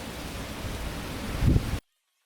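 Steady hiss of monsoon rain falling in West Bengal, with a brief thump near the end before the sound cuts off abruptly.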